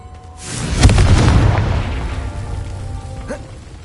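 A spell explosion blasts in a Hogwarts Legacy game, a heavy booming burst that swells and then rolls off into a long fading rumble.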